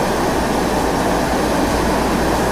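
A broad, steady roar of an Antonov AN-225 cargo plane landing in a flight simulator game, with dense, unbroken rushing noise held at a constant loud level throughout.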